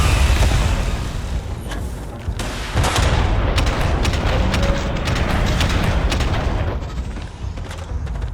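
A grenade launcher fires repeatedly in the video game Starfield, with heavy booming blasts and explosions in an irregular rhythm amid dense, loud combat noise throughout.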